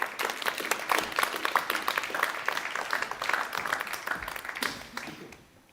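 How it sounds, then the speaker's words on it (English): A conference audience at an energy tech summit applauds an award winner on the main stage: dense, steady clapping that fills the hall and then fades out at the end. "Please put your hands together for the winner of the Green Infrastructure Track"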